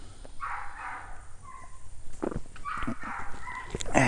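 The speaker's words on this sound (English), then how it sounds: "that dog is barking in the background" A dog barks in the background several times, a few separate, moderately distant woofs over a quiet indoor room with faint shuffling, no talking.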